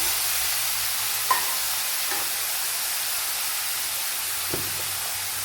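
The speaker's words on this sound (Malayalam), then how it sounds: "ഇനി ഇതിലേക്ക് ഈ വേവിച്ച് വെച്ചിരിക്കുന്ന ബീൻസ് ഇട്ട് കൊടുക്കാം" Cooked green beans hit a hot pan and stir-fry with a steady broad sizzle and hiss, a couple of soft scraping stirs standing out faintly above the constant frying noise.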